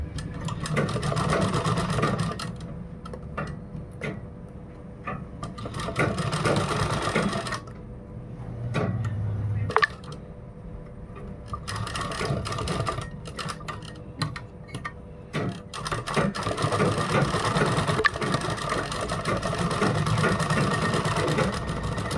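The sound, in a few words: sewing machine stitching a folded kurta seam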